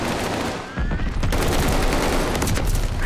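Rapid gunfire in Call of Duty: Vanguard, a dense, loud stream of automatic shots rattling almost continuously after a short pause, close and harsh.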